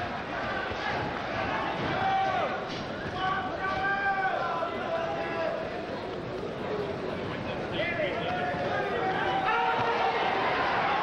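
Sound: boxing crowd chanting Chavez

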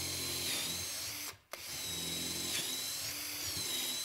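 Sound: power drill boring a hole in wood

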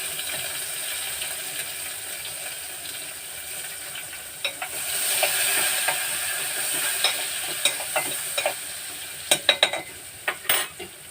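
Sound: onions with turmeric frying and being stirred in pan

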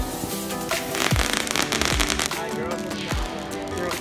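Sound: neighbors shooting fireworks

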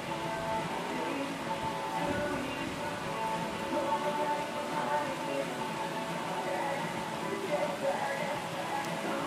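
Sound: rain falling

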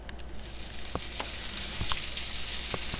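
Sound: butter sizzling in olive oil in a pan

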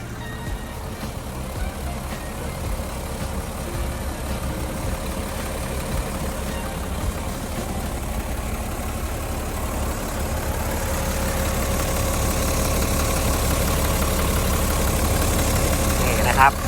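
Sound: Mitsubishi six-cylinder turbo engine idling

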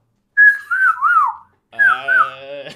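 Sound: whistle imitating a catcall

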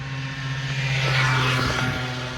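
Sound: 50cc motorbike passing by

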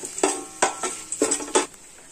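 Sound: green chillies and curry leaves frying in oil

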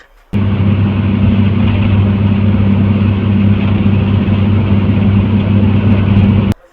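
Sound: Shyamoli Paribahan bus engine while riding

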